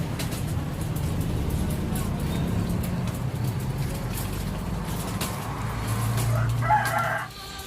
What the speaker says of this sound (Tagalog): Native nga manok.